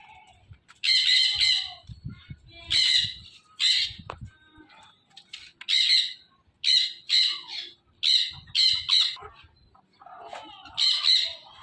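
Chickens in a farm cage squawk loudly and repeatedly, a dozen or so harsh bursts close by, with quiet shuffling between the cries and no talking.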